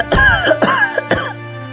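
Three harsh coughs in quick succession, close and loud, each a raspy burst with a throaty tail, followed by quiet.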